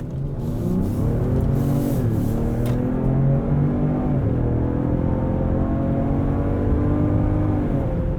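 A 2020 Lincoln Aviator Reserve SUV accelerating hard in Excite drive mode, its engine note loud and steady with rising harmonics as it pulls through the gears, with digitally piped-in engine sound and aggressive throttle response, heard alone without talk.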